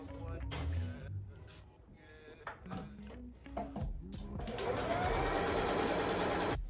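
A sewing machine stitches around the corner of a cloth napkin, starting in short stop-start bursts with handling clatter, then running in a steady, loud whirring stretch; a voice talks over the early part.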